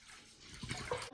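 Water poured into a batch of Elmer's glue slime, a short trickling splash that grows slightly louder toward the end, close and fairly quiet.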